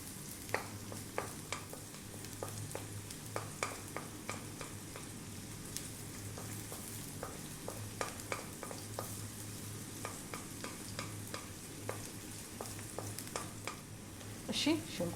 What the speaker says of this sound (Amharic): ይሄንን እንጠብሳለን ለ3 ደቂቃ።